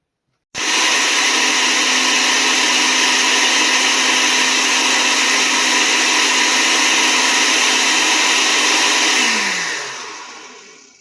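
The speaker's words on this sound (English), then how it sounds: "So when I get this all blended, I will come back" A blender purées hot homemade ketchup with a loud, steady motor whir that starts abruptly, holds evenly for several seconds, then winds down as it is switched off. There is no talk.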